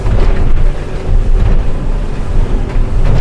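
Merry Fisher 895 Series 2 motorboat running downwind at speed around 27 to 30 knots and 5,000 RPM, a loud constant roar of engine, rushing water and heavy wind buffeting the microphone.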